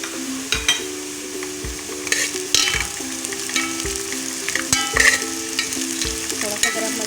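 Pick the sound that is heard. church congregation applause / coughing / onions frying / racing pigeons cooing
onions frying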